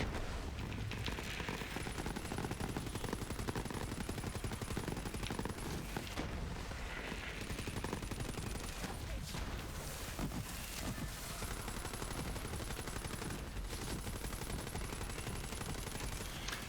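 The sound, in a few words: gunfire from a weapon in the video game Borderlands 3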